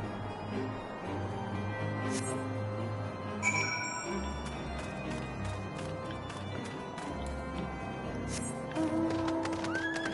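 A horse in Final Fantasy XIV whinnies amid hoofbeats and a busy game soundscape, with a few sharp neighs standing out over steady background music.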